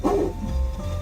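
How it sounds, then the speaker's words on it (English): A dog barks once in a short, loud burst close by, heard during a live sheriff's patrol, with a low engine-like rumble underneath. "Never heard this song before either, with a dog barking."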